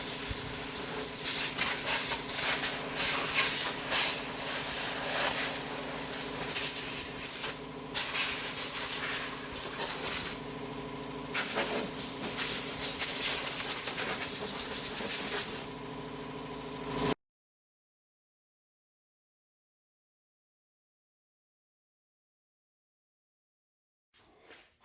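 Air compressor blowing a loud, continuous hiss of compressed air in long bursts during work on a Craftsman mower, with brief pauses between blasts before it stops abruptly into silence; a faint click follows near the end.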